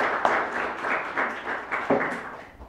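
An audience at a lecture claps together in steady, dense applause for a few seconds, gradually fading toward the end.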